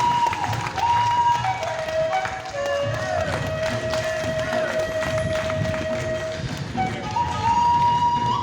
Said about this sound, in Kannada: ಜೋರಾಗಿ ಚಪ್ಪಾಳೆ ತಟ್ಟುವ ಮೂಲಕ